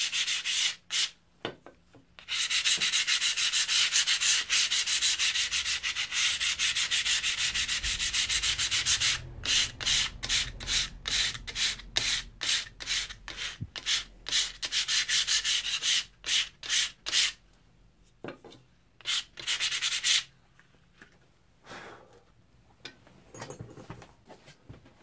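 An old edge tool is scrubbed to loosen rust, with long continuous abrasive rubbing strokes followed by bursts of quick short back-and-forth scrubbing, close and fairly quiet, separated by brief pauses.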